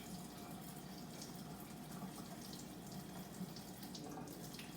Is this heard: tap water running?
yes